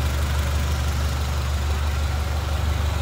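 A 1930 Ford Model A Tudor Sedan engine idles close up with a steady, low, even rumble and no talk over it.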